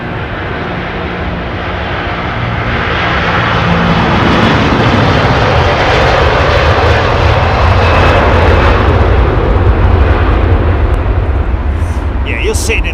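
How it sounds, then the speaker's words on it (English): Airliner with Rolls-Royce Trent 700 engines at London Heathrow Airport: a loud, rising roar builds and holds steady as the jet powers up on its takeoff run, heard from nearby, with people's voices over it. "Listen to this thing go, man. Oh! Trent 700s."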